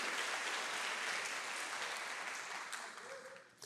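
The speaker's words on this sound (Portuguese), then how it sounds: "Se você crê, aplauda bem forte o nome de Jesus." Church congregation applauding after a worship call, a dense steady wash of clapping that holds strong throughout and only eases slightly near the end.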